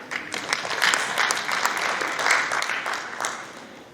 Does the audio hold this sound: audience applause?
yes